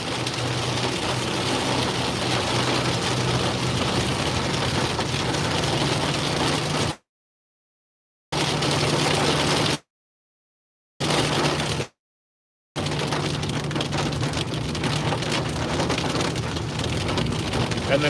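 Heavy rain pours during an Ozarks supercell storm, a dense, constant hiss of drops on surfaces with a low engine-like drone underneath, broken by several brief dropouts of silence; no one speaks.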